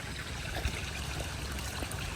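Water trickles into a room through the night, heard as a steady faint wash of flowing water with no talk.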